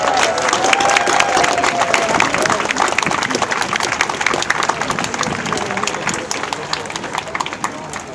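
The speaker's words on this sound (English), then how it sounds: "Let's give a big round of applause for your service." Audience applause at a memorial gathering for shooting victims, a dense, steady wash of clapping from a large crowd, with some cheering, sustained throughout.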